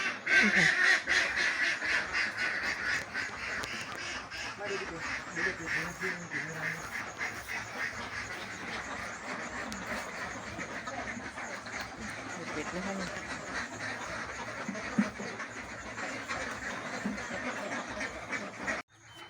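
Ducks quack repeatedly in the background of a duck farm of about 700 birds while someone talks over them, the calls steady and moderately near.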